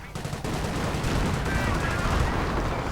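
Artillery fire in a Company of Heroes 2 battle: a dense, continuous roar of explosions and crackling gunfire that swells sharply about half a second in and stays loud throughout.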